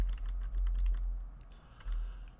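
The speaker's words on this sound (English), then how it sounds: "I'm just typing in the values." Rapid, irregular clicking of keys on a computer keyboard as values are typed into a molecular modeling spreadsheet, close and steady over a low background hum, with no talking.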